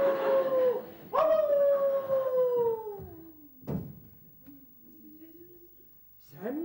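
A theatre actor on stage imitates a dog with drawn-out, howling barks and yelps, loud and close, in a few separate bursts with short pauses between them.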